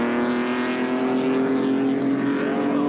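Pre-war racing cars at a 2001 Vintage Sports-Car Club race meeting thunder past on the circuit in a loud, continuous engine drone with a steady pitch and no speech.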